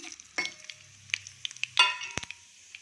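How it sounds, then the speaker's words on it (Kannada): Mustard seeds, chana dal, urad dal and cumin crackle in hot oil in a pan: sparse, sharp pops and spits scattered irregularly over a quiet background, one louder burst near the end. "ಇದೆಲ್ಲ ಸ್ವಲ್ಪ ಚಟಪಟ ಅಂತ ಸಿಡಿಲಿ"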